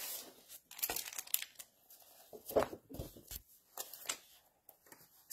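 Sheets of paper that have already been cut into are handled close by, with repeated crinkling and rustling bursts and a few sharp tearing-like rips spread over the stretch, with no talking.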